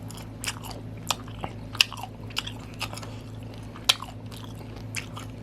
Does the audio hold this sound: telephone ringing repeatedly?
no